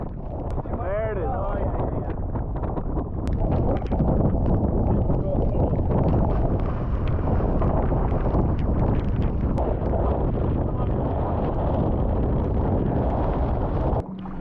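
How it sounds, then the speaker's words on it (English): Strong wind roars and buffets the microphone outdoors before a cave dive in Belize, a loud continuous rumble with a person speaking over it. "I'm anxious to get going and get out of this wind."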